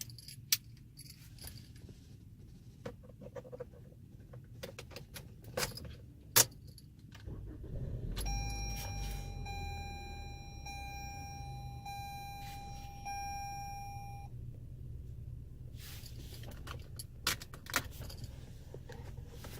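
A 2018-2020 Toyota Camry is started with keys jangling first, then the engine catches and hums low while a steady chime sounds repeatedly for several seconds before stopping, followed by more faint jangling.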